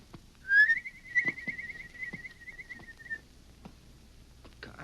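A single rising whistle imitating a bird call, a long warbling tone held for a few seconds, heard alone amid faint outdoor rustle and small knocks, with another brief whistle at the end.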